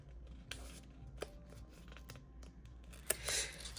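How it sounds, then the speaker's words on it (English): Scissors snip through a loop of washi tape in a few short, crisp cuts spaced apart, close and fairly quiet, in a still room. "I'm going to go ahead and cut right here."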